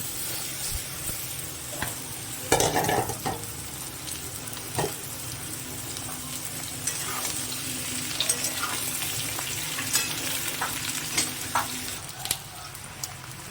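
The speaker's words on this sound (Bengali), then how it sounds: "ভাজা হয়ে গেছে, এবার আমি পেঁয়াজটা দিয়ে দেবো।" Potatoes and onions fry in a pan while being stirred: a steady close sizzle with scraping stir strokes and a sharp clatter early on.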